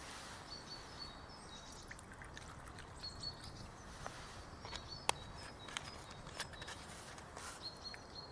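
Soft trickling water poured into a kettle outdoors, faint and close, with light clinks and scattered clicks over a quiet background with distant birds.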